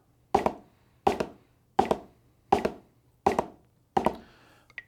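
Six crisp, evenly spaced drum strokes played as quarter notes with alternating hands, each a sharp close hit with a short decay, heard alone with no talking.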